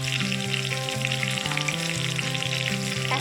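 Turmeric, cumin and other ground spices fry with cabbage in a pan, giving a steady, close sizzle that carries on without a break while the mixture is stirred.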